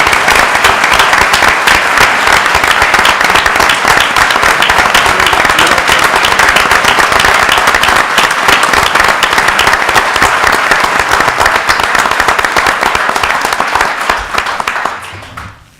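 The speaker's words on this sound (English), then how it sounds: "So let's give them a round of applause." A large audience at a public announcement breaks into a sustained round of applause, dense and loud throughout before tapering off at the end.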